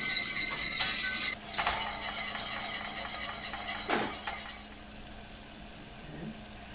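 A whisk works a mixture of cold water in a pot on the stove for an apple tart, with bright metallic clinks and scrapes up close that thin out toward the end.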